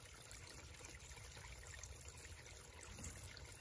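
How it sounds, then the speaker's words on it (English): Water trickles steadily down a small dam on a property, a soft continuous splashing like a small waterfall, faint and unbroken with no voices. "who doesn't love the sound of like a small waterfall?"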